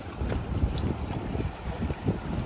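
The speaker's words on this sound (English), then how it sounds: "Sailing today." Hobie 16 catamaran sailing on open water in the Florida Keys, a steady rushing of wind buffeting the microphone over the low wash of water along the hulls, with no talk.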